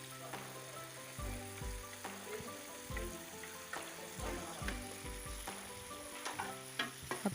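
Spices for chicken biryani fry in a pan, a steady close sizzle broken by repeated clanks and scrapes of a spoon stirring against the metal, with no talking.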